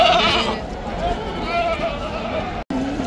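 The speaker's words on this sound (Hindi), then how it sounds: "और पीछे कोई बकरा आ रहा है माशाल्लाह" A goat bleats a few times amid the crowd at a busy Mumbai livestock market during the Deonar bakra mandi, half masked by someone talking over it.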